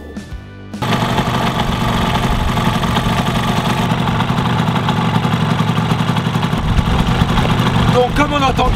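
A Suzuki GT125 motorcycle with freshly rebuilt carburetors starts up and idles, its two-stroke engine loud and close with a fast, steady rattling beat, then a brief rev near the end.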